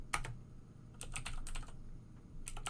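Fingers type on a computer keyboard at close range, with short clusters of crisp keystrokes separated by brief pauses and no voices.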